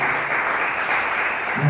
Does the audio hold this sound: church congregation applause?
yes